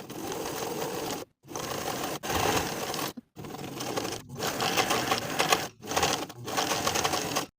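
A sewing machine runs an edge stitch down the front flap of a knit winter sweater, working in several steady bursts of motor whir separated by short pauses, close and clear with no talk.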